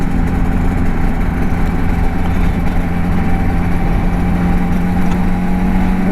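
Suzuki RG500 two-stroke motorcycle fitted with Nikon exhausts while being ridden on the road, a loud continuous engine drone with steady pitch and constant level throughout, no voices.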